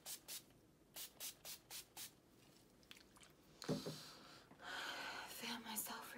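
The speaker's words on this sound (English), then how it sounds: "I'm gonna go in with my NYX setting spray" Several short, rhythmic spritzes of a NYX makeup setting spray bottle, followed by softer rustling and a longer hissing burst, quiet and close.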